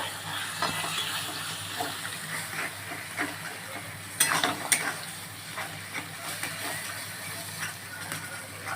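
Eggs stirred with brinjal frying in a pan, with a steady sizzle under scraping, clattering stirs from a utensil and a louder burst of scraping around the middle; no one speaks.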